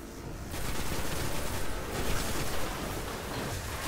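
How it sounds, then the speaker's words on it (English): Sustained rapid gunfire from a hostile enemy in a video game on hard difficulty, a dense loud burst of automatic fire that rattles continuously for several seconds without pause. "That thing's still shooting at me"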